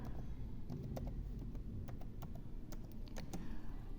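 Keys tapping on a computer keyboard as a question is typed, irregular quiet clicks in short bursts over a low steady room hum.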